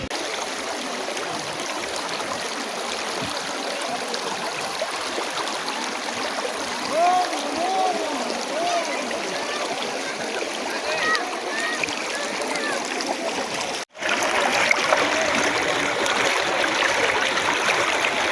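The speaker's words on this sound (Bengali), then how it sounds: "পানির কলো কলো ধ্বনিতে যেন মোহিত হয়ে যায় হৃদয়" Stream water babbling and splashing over the white stones at Sada Pathor in Sylhet, a continuous close rush with gurgling trickles and a brief dropout near the end; a voice talks over it at times.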